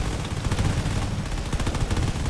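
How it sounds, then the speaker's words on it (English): Rapid gunfire from a Therion combat drone in a canyon battle, a dense continuous rattle of shots with low-end thumps, loud and steady throughout with no talking. "There's a lot of gunfire coming off of that Therion"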